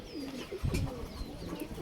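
Pakistani Teddy high-flyer pigeons coo softly in a loft, with a few low burbling coos and a brief louder flutter near the middle, heard alone without talk.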